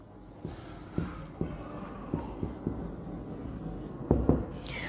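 Pen or marker strokes write out nursing diagnoses and interventions for osteoarthritis, heard as a series of distinct scratchy taps spaced about half a second apart, then a quicker double stroke near the end, close and clear with no talking.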